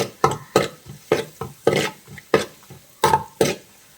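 Ginger, garlic and dried red chillies sautéed in a pan: a series of repeated stirring scrapes and clacks of a spoon against the pan, about a dozen strokes with light sizzle underneath.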